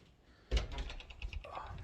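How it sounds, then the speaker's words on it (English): A shed door that is being fitted with new frame parts is pulled open with a sudden close thud and rattle, followed by a few lighter knocks and scrapes. "let me get this door open here"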